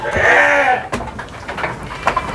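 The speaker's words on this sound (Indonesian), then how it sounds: "Ini betina cross texel bobot 30 up." A Texel cross ewe bleats at a farm, one close, loud wavering cry followed by faint shuffling and a few quieter animal noises nearby.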